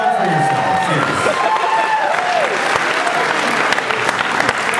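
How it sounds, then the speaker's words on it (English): Concert audience at the Aladdin Theater in Portland applauds and cheers steadily, a dense loud wash of clapping with crowd voices and whoops running through the whole stretch. "Yes, applause for yourself."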